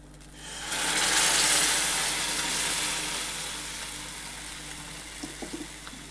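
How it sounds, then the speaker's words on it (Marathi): Boiled drumstick pods tipped in with their cooking water hit hot spicy masala in a pan, bursting into a loud hiss that swells quickly and then slowly settles into steady sizzling, with a few light clinks near the end. "आता आपल्याला यामध्ये ज्या उकडून घेतलेल्या शेंगा आहे आपण त्या टाकायच्या आहे, पाण्यासहित टाकायच्या आहे आपल्याला या शेंगा."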